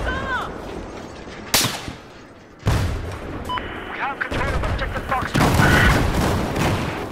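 Battlefield 4 gunfire crackles in bursts amid booming explosions and chaotic battle noise, with sharp loud shots punctuating a dense, roaring background of combat.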